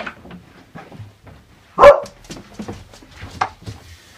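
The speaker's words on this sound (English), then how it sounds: "Dog!" A dog gives one loud, close bark amid quieter room sounds and light rustling, followed by a shorter softer yip a moment later.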